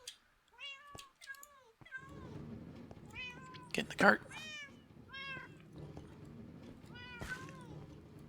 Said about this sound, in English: We want a black cat first.